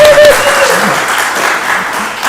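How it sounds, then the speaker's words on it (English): Audience applause at a church gathering, a steady wash of clapping from a crowd that holds loud for the full stretch, with a brief voice briefly audible near the start. "Catherine Snyder, let's clap for Patrick."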